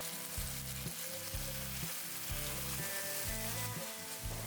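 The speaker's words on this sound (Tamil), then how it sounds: "வெங்காயத்துக்கு கூடவே மசாலா சேர்த்துக்கோங்க. அப்போ தான் அந்த எண்ணெயில் மசாலா சீக்கிரமாக வேகும்" Onion and ground masala fry in hot oil for street-style fried rice, a constant bright sizzle with rhythmic scraping and stirring strokes repeating every half second or so, close up and without talk.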